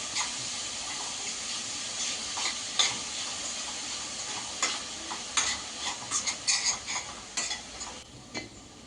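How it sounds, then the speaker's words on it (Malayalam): Chopped banana flower with turmeric and salt is stirred in a pan, faint soft sizzling under repeated spoon scrapes and clinks that grow busier toward the end. "കുറച്ച് മഞ്ഞൾപ്പൊടി ഉപ്പ് എന്നിവ ചേർത്ത് നന്നായി ഇളക്കുക"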